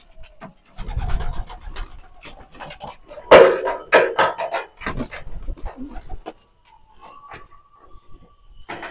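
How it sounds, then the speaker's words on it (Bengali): Pigeons let out of their coop into the summer heat for feeding, with low murmuring coos and fluttering wings close by, plus a few louder flapping bursts and scattered rustling. "দেখেন সবগুলো কবুতর কিরকম করে"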